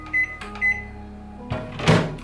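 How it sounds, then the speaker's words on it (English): Microwave oven heating food for five minutes on medium power, with two short beeps from the panel, then a door clunk and a steady low hum, nearby and alone. "We're going to microwave them for 5 minutes on a medium heat."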